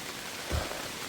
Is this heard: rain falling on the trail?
yes